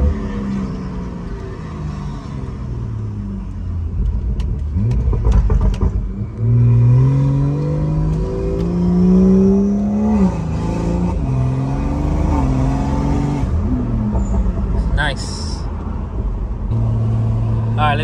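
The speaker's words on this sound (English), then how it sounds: "I can hear my blow-off valve and I can hear the boost building" Inside a BMW with a B58 engine and an electric wastegate, the engine drones and rises through the gears under acceleration, with a turbo whine building and a blow-off valve hiss near the end, while people talk over it.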